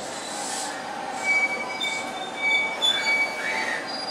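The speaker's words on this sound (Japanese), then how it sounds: "7番乗り場に到着の列車は特急黒潮25号和歌山方面。" A JR West 283 series limited express Kuroshio No. 25, bound for Shingu, pulls into platform 7 at Kyoto station. Faint rolling rumble is pierced by repeated high-pitched wheel squeals and screeches as it moves slowly along the platform.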